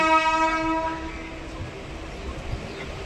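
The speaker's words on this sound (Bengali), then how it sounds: "ট্রেন ছেড়ে দিয়েছে," A local train on the BBD Bag to Kalyani line pulls out of a station, its horn sounding a long, loud blast that fades into rolling rumble and wheel noise.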